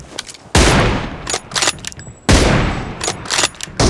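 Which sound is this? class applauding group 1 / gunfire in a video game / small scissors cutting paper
gunfire in a video game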